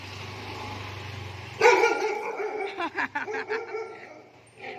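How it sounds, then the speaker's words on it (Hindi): Ruby, a pet dog, barks in a quick, loud burst of several close barks after a quiet lead-in, with some snickering laughter and a voice mixed in. "देखा देखा भौंक रही है ना"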